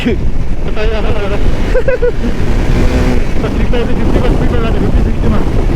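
Strong wind buffets the microphone during a motorbike ride on a dusty mountain road from Jomsom, Nepal, a loud, continuous roar with riders' voices talking over it.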